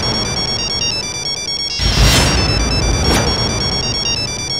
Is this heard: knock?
no